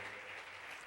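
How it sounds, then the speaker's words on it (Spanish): Congregation clapping in a church service, a dense, steady wash of many hands heard fairly quietly throughout without pause. "Gracias por darle esas palmas al Señor."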